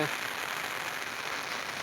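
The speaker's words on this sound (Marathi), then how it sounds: "उन्हात पाऊस चालू आहे" Continuous even hiss of rain falling steadily on a surface in sunshine, fairly close, with no breaks.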